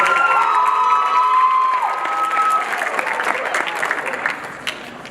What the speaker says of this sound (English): Can we just give Jen another round of applause?